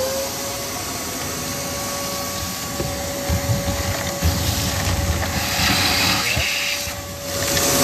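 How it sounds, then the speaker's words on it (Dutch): A vacuum cleaner drying a wet outdoor surface while garden drainage and a rainwater downpipe are being connected, a loud continuous whining drone with steady tones and some sucking, gurgling variation, close by throughout. "Weer stofzuiger aan het."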